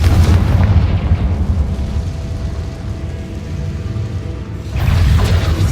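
A Confringo blasting spell in Hogwarts Legacy erupts into a loud, heavy explosion, with a deep booming rumble that rolls on steadily and swells again with a fresh blast near the end.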